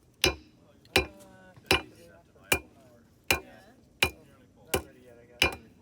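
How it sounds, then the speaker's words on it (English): Hammer blows ring on a metal blade at a blacksmith's forge, eight sharp clanging strikes at a steady, roughly one-per-second rhythm, close and loud with faint voices between. "Keep the hammer in the same spot."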